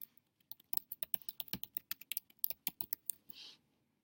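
Fingers tap quickly on a computer keyboard, a close, crisp run of irregular clicks and key strikes with a short swipe-like sound at the end, no voices.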